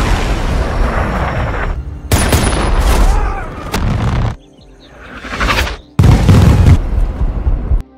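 Gunfire and a drone-launched Hellfire missile strike in an action film, heard as loud bursts of shots and booming blasts in several heavy waves, with a brief quieter gap before a final strong impact.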